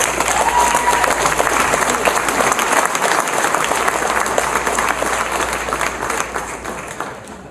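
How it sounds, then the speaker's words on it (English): An audience at a bass fishing hall of fame induction ceremony claps steadily and loudly, sustained applause that slowly tapers off near the end. "Let's hear it for Mike Iaconelli and all our inductees"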